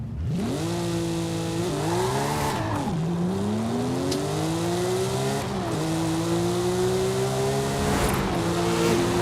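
A 1990 Porsche 911 Singer DLS in Forza Horizon 5 accelerates hard, its engine note climbing loud and continuously through several gear changes, with brief dips at each shift.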